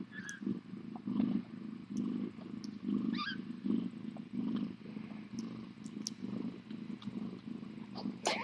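Tiny kittens nursing and squirming against their mother, a steady rhythmic purr close by with faint high mews breaking through now and then.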